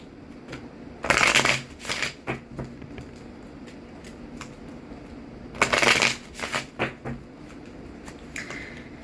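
Moonology oracle cards being shuffled in two loud riffling bursts, the second about four seconds after the first, with soft card handling and taps between them; no one speaks.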